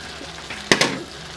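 Beaten omelette eggs and spring onions are added to a hot pan of Indonesian mee goreng noodles and start frying, giving two sharp close sizzling bursts over a low steady crackle.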